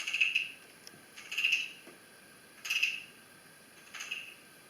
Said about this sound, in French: Ou le soir, quand j'entends les grenouilles.